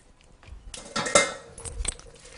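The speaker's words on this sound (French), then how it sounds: "On va les mettre dans la poêle avec le jambon et les oignons." Konjac noodles tossed into a frying pan holding ham and onions give a close clatter of food and utensil against the pan, rising to a scraping, sizzling rush before easing off, with no talk.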